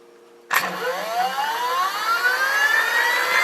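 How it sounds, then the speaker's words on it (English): An electric motor on a controller bench kicks on abruptly while held under brake load, then settles into a loud, steady whine that slowly climbs in pitch. "So this motor is on brake form."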